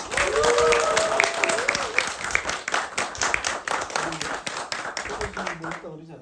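Audience applause for a professor at a lecture, a dense burst of clapping from a crowd that thins out and stops near the end, with voices talking over it.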